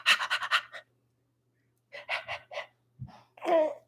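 A girl's pet panting with her mouth open, several quick bursts of breathy huffs close to the microphone separated by short pauses, with a faint low hum underneath.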